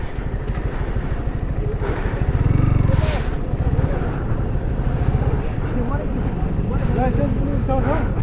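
A motorcycle runs along a highway with a loud, steady exhaust drone that swells briefly near the middle and stays close throughout, while people talk over it.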